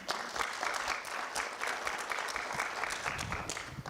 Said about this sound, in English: May you all give yourselves an applause